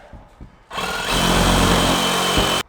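A one-handed Sawzall reciprocating saw cutting in a cramped spot during pool demolition, starting abruptly after a few quiet knocks and then buzzing loud and steady for about two seconds before it cuts off.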